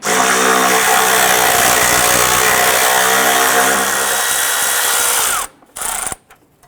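A power tool whirs steadily while removing a 10mm bolt on an ABS module bracket of a 2001-2005 Honda Civic, a loud sustained buzz that drops in pitch partway, then cuts out with a couple of short bursts.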